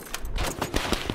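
SCAR rifle firing in Call of Duty, a rapid burst of several gunshots in quick succession, close and loud.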